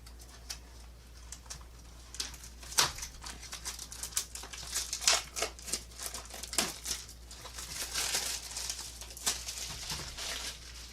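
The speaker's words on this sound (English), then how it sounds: "So I'm going to go ahead and get the plastic off." Plastic wrap is peeled and crinkled off a boxed Highlander card game, making close, uneven crackling and rustling that builds and thickens over several seconds.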